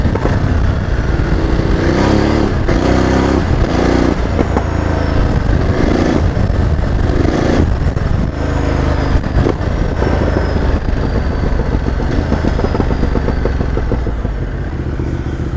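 Motorcycle ridden through city traffic, with a constant loud engine drone and wind buffeting, passing vehicles and occasional clatter mixed in, and no speech.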